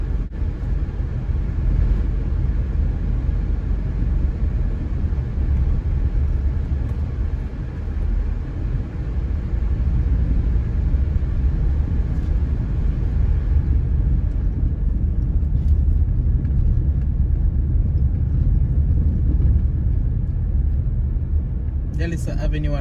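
A car drives along scenic Shortwood Drive through the hills of Russell Heights, giving a steady low road and engine rumble that continues for the whole stretch.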